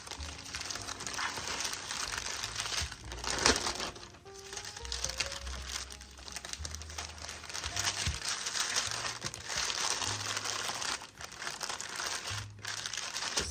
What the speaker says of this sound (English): Then I am putting it in a zip bag.